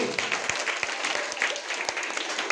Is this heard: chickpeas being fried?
no